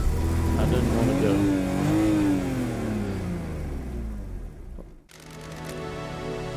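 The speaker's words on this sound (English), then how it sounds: "In your interdimensional car." An interdimensional car engine in the video game Paradise Killer revs with a rising and falling whine, loud and close. It cuts off sharply near the end, then a steady hum picks up again.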